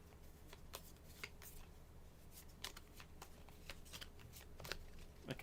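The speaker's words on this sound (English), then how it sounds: "Yeah, I'll make you shuffle." Playing cards for the Risk: Dune board game are shuffled, giving repeated crisp riffling bursts at a steady pace over a faint low room hum, close and fairly quiet.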